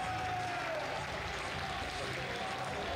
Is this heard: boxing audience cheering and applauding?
yes